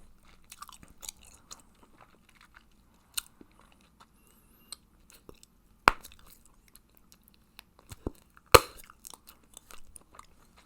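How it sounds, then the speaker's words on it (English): Hubba Bubba Strawberry Watermelon bubble gum chewed close to the mic, with sparse soft wet clicks and smacks and a couple of sharper pops, all quiet and unaccompanied by talk. "the texture changes immediately after about 10 seconds of chewing the gum"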